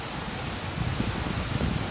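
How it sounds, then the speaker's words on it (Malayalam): Heavy rain falling steadily outdoors in cold, windy weather, a dense broadband hiss that thickens partway through, with no voices over it. "നല്ല മഴയാട്ടോ, നല്ല മഴ"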